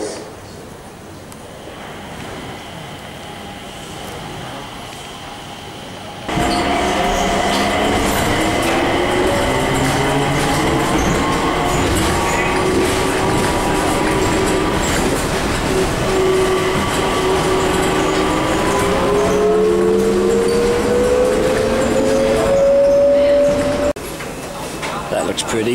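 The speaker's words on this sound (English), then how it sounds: "The SkyTrain is approaching." Bangkok SkyTrain arriving at a station at night, a loud steady rumble with rising and falling electric motor whine as it slows, with station announcements and talk over the top.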